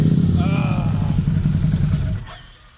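A Can-Am 1000 engine that turned over slowly when warm starts and runs with a loud, close, rapid mechanical chugging, then cuts off abruptly near the end.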